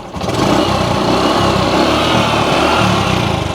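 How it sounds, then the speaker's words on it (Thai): A Honda Dream C125 motorcycle engine runs steadily and loudly up close, a continuous even drone with no speech over it. "ฟังเสียงเครื่องกันดีกว่า"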